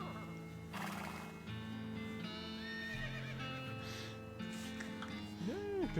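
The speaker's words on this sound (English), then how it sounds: "Are we gonna have to listen to that sound if we take the crazy-eyed horse?" A crazy-eyed horse in the West of Loathing video game gives a shrill, wavering neigh near the end, over music, hoof clip-clops and a voice talking.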